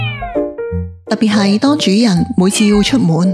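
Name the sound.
cat meowing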